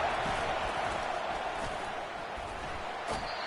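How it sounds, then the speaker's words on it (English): Steady roar of a packed stadium crowd in a college football video game, a dense wash of cheering that holds throughout with a few brief sharp accents near the end. "Listen to this crowd just shaking the girders of this place"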